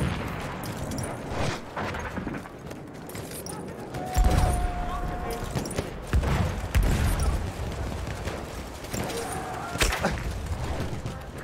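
A grenade blast thumps in the Battlefield 1 warzone, one of several heavy booms amid scattered gunfire and battlefield clatter, with a player speaking over the chaos.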